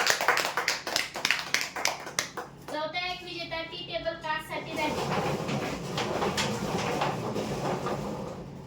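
An audience at a prize draw claps, a run of sharp, fairly close hand claps that gives way partway through to a voice, then to a thinner, steady patter of applause underneath.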